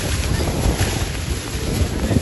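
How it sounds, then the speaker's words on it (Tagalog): Strong wind roars steadily across the microphone at a seawall in Manila, with the broad rush of sea waves churning beneath it. "malakas pa rin ang hangin at alon sa Maynila"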